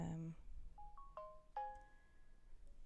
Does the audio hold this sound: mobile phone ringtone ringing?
yes